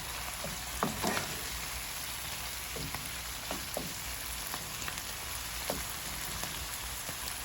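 Vegetables for a vegetarian fried rice fry in a pan with a constant close hiss, dotted with scattered small crackles and pops, and no one speaking.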